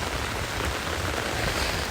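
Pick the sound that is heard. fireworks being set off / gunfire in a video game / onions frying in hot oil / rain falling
rain falling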